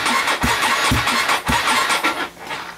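A car engine cranks after the start button is pushed, a loud, rhythmic chugging of the starter with regular beats about half a second apart that fades toward the end, heard up close with no talk.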